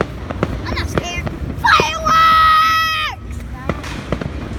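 Fireworks burst outdoors with scattered pops and crackles, then a long whistling tone as a shell rises, with children shouting and chattering around the display.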